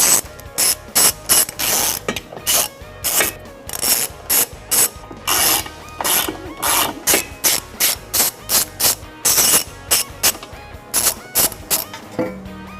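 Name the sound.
ratchet with 16mm socket removing reinforcement beam bolts on Audi E-Tron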